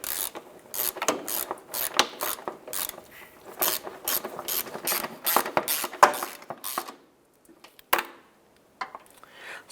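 A ratchet snugs down screws on the water pump of a 2011–2019 Ford Fiesta, with rapid close clicking bursts repeating for several seconds, then a brief pause and a final few clicks.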